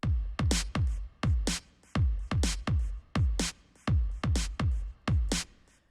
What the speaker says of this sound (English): And this is the kick and snare.